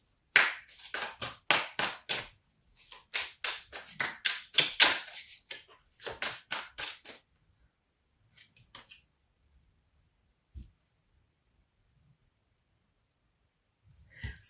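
A deck of tarot cards shuffled vigorously at close range, a quick run of sharp riffling snaps and taps in bursts, then tapering into a few faint scattered clicks and near silence.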